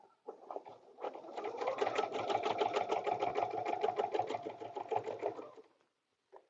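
A sewing machine stitches a paper-pieced butterfly dresser scarf in a steady fast mechanical run of several seconds, moderately close and with no talk.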